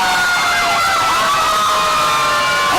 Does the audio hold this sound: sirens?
yes